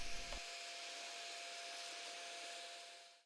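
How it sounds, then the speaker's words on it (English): Orbital sander working a wooden live edge tea light candle holder at up to 150 grit, a steady close whirring hum with a constant tone that runs evenly, then winds down at the end, with no voices. "One final hit with the Orbital Sander."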